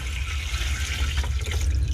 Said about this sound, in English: Let's dump the water in.